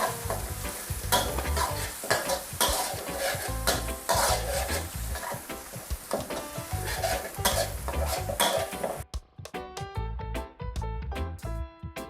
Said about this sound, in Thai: เจียวกระเทียมเราใช้ไฟอ่อนนะคะ